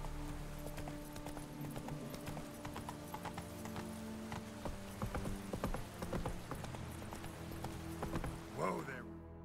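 Roach, a horse in The Witcher 3: Blood and Wine, trots with steady, close clip-clopping hooves throughout, with a brief whinny near the end and game ambience underneath.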